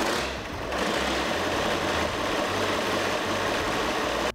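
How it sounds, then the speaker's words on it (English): Diesel tractor engine, freshly fitted with a turbo, catching and settling into a steady close idle with a rapid, even mechanical chatter and a low rumbling pulse, alone without talk. "All right, it's time to start the tractor"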